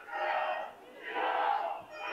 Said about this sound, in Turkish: şu anda muazzam bir tezahürat görüyorum